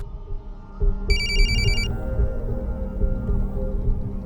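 A telephone rings once with a short electronic trill over a steady low hum.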